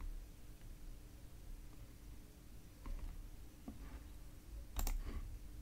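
A few faint, sparse mouse clicks while installing a Flatpak app in a software installer, spaced a second or so apart over a low steady hum, with no talking.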